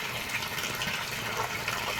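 A strong stream of water pours into an aquaponics catfish pond, making a constant rushing, splashing wash at moderate level that does not let up.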